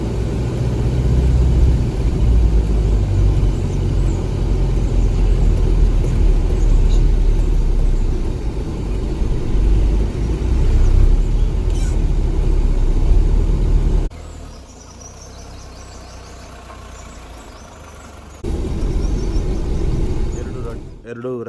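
A motor vehicle engine rumbles low and steady nearby, pausing for a few seconds before picking up again, with general roadside ambience around it and no clear speech.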